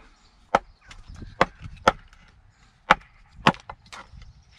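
An axe chops into wood while carving a spoon bowl, with about six sharp, close, loud strikes at irregular intervals and faint splintering and handling sounds between them, no talking.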